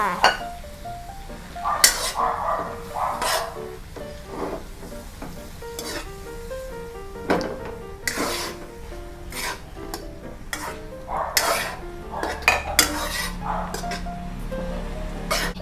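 Squid stir-fried with chili in a hot pan for a salted-egg squid dish: a steady sizzle runs under irregular metal spatula scrapes and clanks against the pan, with a faint tonal hum in the background.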